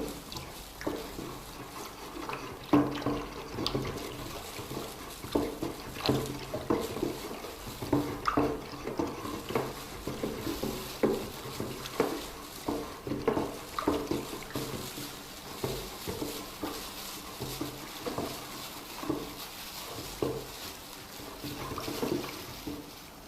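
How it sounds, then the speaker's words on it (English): Nitrosol being poured into water while the mixture is stirred by hand for a homemade toiletry, giving a steady wet trickling and dripping with soft sloshing and clinks of stirring throughout, close and moderately quiet. "You keep stirring as you pour the nitrosol so that it doesn't have lumps"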